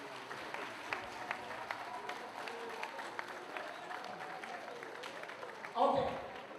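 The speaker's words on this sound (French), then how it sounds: "nous allons applaudir très fort pour notre ami Bedos Congo" Guests at a 50th birthday party applauding, a faint, thin patter of clapping under people talking, ending with a brief louder bump.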